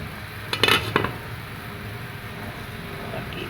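A metal lid set onto a cooking pot of shrimp sinigang, making a quick clatter of two or three metallic clanks, then a low steady background hum.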